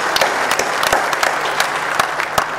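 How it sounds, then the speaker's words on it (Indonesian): An audience claps steadily in sustained applause at a banking-sector event, a dense continuous patter with no break and no voices over it. "Kita beri aplaus untuk inisiatif itu."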